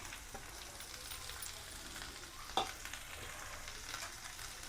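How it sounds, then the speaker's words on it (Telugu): Okra pieces and curry leaves frying in hot oil, where green chillies were fried first, give a steady crackling sizzle throughout, with a brief louder stir or clatter in the middle and no talking. "అదే ఆయిల్లో, పచ్చిమిర్చి వేయించిన ఆయిల్లోనే బెండకాయలు వేసేసేయండి. ఇవి చక్కగా వేగాలండి."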